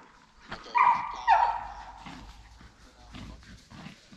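Hunting dogs run and bark through the woods during a Virginia deer hunt, with a couple of brief, moderately loud barks or yelps early on, then fainter sounds amid rustling and distant noise.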